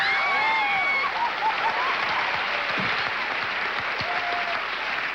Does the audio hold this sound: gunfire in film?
no